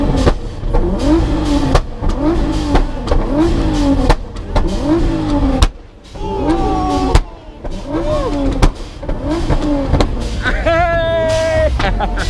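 Car engine revving hard at a car meet, with repeated rising and falling rev sweeps over a loud, busy background, a short dip near the middle, then more high-pitched revving; people talk and shout throughout.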